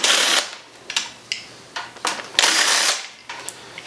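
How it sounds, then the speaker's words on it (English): A ratchet clicks as two 10mm nuts come off a Predator 212 go-kart engine, short metallic bursts and longer ratcheting runs close by, irregular and separated by brief pauses. "So we're going to take out these 2 10mm nuts"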